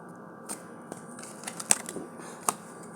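Tarot cards shuffled by hand in a quiet room, a soft run of faint papery riffles and flicks with a couple of sharper snaps standing out, close and low in level.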